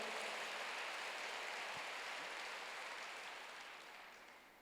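A church congregation applauds together in a dense, even wash of clapping that holds steady, then slowly fades toward the end, heard from a distance at low level.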